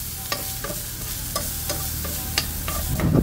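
Onion, garlic, black pepper and ginger sauté in hot oil with a constant close sizzle, while a utensil knocks against the pan about once a second, with no one talking.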